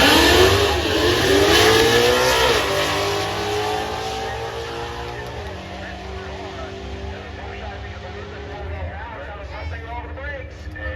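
At a drag strip, a Porsche and an S550 Mustang rev hard and accelerate off the line, a loud, sustained engine roar with rising pitch sweeps that slowly fades, overlaid by an announcer's continuous commentary.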